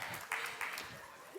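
Quiz audience breaks into brief applause, a few bursts of clapping rising and fading at moderate distance before quieting.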